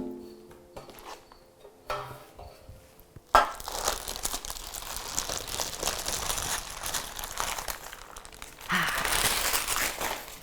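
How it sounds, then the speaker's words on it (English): Parchment paper peeled and crinkled off a cooled sponge cake turned out onto a clean tea towel, a soft close rustling and tearing that starts faint and grows steadier, with no talk over it. "invert it onto a clean tea towel and remove the parchment paper."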